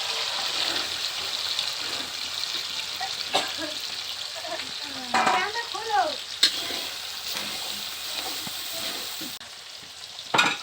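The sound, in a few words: green peas frying in a pan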